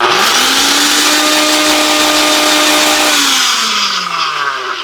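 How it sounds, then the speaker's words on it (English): A blender motor whirs loudly at high speed grinding spices, pitch shifting near the end as it winds down, with rattling grinding underneath. "So I'm gonna go ahead and use this blender one more time. Grind that bad boy up."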